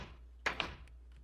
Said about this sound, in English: Stop opening and closing the door.